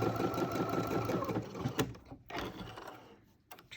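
A sewing machine stitches fabric for a face mask with a fast, steady mechanical whirr close by, briefly stopping and restarting near the end as a backstitch is made.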